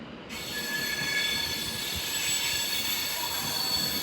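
An Avanti West Coast Class 390 train pulls out of London Euston on a snowy evening, with steady wheel squeal, high metallic tones and a low rumble that rise right after a quiet start and hold at a constant level.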